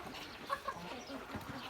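Livenskaya chintz hens cluck in a village yard at morning feeding time, with a couple of brief close clucks standing out over steady rustling farmyard background noise.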